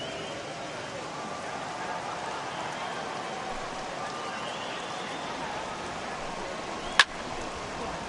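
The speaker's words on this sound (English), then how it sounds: "This has got to be the hardest rain we've seen all afternoon." Heavy rain pours at a St. Louis Cardinals at New York Mets baseball game, a steady, dense hiss filling the whole stretch, with a single sharp crack near the end.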